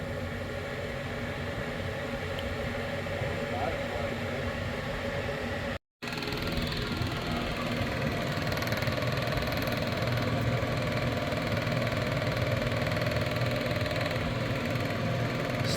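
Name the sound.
pump sucking old fuel out of a Sea Ray boat tank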